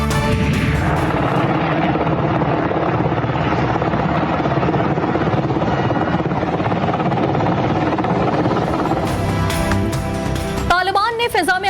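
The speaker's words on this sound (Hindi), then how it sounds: "कब्जे में लिए गए अमरीकी ब्लैक हॉक हेलीकॉप्टर की काबुल की फिजा में परवाज की फुटेज वायरल हो गई" A captured American Black Hawk helicopter flies over Kabul, a loud continuous rotor roar with heavy low chop heard beneath a news voice-over.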